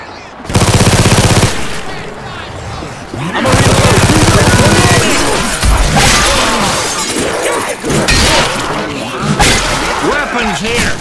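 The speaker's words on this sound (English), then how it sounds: "Grenade launcher." Weapons fire loudly in Left 4 Dead 2 amid a grenade launcher's bursts: sharp blasts, rapid shots and crashing impacts fill the scene, with voices partly under the din.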